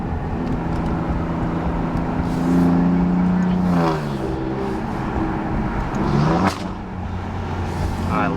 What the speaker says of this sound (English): then we'll downshift and it'll crack like crazy